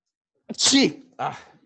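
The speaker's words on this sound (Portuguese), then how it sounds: "Espera aí que eu vou espirrar." A single person's sneeze indoors during a chemistry lesson, close and loud: a sharp inhaled build-up bursting into one forceful sneeze, followed by a brief voiced sound.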